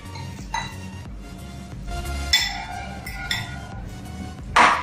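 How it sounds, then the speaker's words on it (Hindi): Sago pearls being stirred into mashed banana in a bowl for fasting-style banana cutlets, giving close, intermittent clinks and scrapes of a spoon against the dish with a sharper clatter near the end. "अब मैं इसमें ये साबूदाना डाल दे रही हूँ और इसे भी अच्छे से मिक्स कर ले रही हूँ।"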